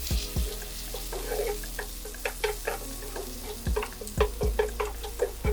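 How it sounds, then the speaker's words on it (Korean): Garlic fries in about 20 g of butter in a pan, giving a steady close sizzle with intermittent scraping and stirring clicks throughout. "팬에 버터 20g 정도를 넣고 마늘을 볶아줄 겁니다"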